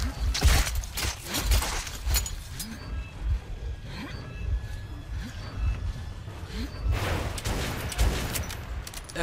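Shotgun and weapon fire in the first-person shooter Metro 2033, sharp repeated blasts and clatter in quick bursts, with a player's excited voice talking over the action.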